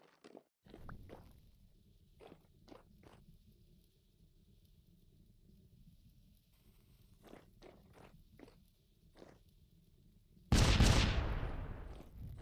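Bombs going off in the survival game Vintage Story: scattered sharp pops and thuds over a low rumble, then one loud, close blast with a long, noisy decay near the end.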